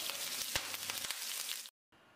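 Green chilies fry in hot oil for a Punjabi dhaba-style dum aloo, giving a soft, steady sizzle with small crackles that cuts off abruptly into a brief silence before faint noise resumes.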